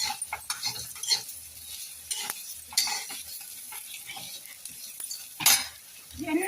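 Ingredients being sautéed and stirred in a pan with salt and asafoetida, irregular scrapes and clinks of a utensil against the pan over a faint sizzle, a few loud scraping bursts.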